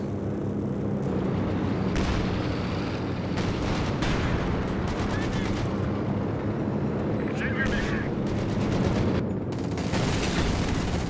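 Dense gunfire rattles at planes in Company of Heroes 2, sustained bursts of shots and booming battle noise filling the background continuously while a commentator talks over it.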